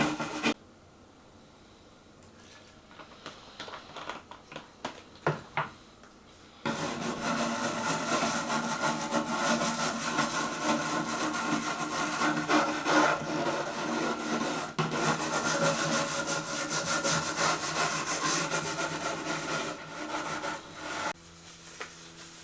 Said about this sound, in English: The brush had nylon bristles, so they did no harm and they cleaned up the details nicely.